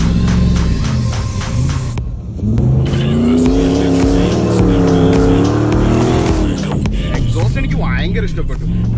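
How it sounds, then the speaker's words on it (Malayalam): A Nissan Patrol Y62 on a track roars loudly through its exhaust with wheel spin, the engine note rising and falling in sustained revving close by, with a voice talking over it. "കാല് കൊടുക്കുന്ന സ്ഥലത്തൊക്കെ എക്സോസ്റ്റിൽ നിന്നുള്ള ശബ്ദവും വീലിൻ്റെ ആ ഒരു സ്പിന്നും"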